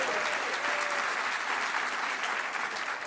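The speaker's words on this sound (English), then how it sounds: "They were applauding during your announcement there" Audience applause at the Delta keynote at CES: continuous, dense clapping from a large crowd, steady and fairly loud throughout with no talk over it.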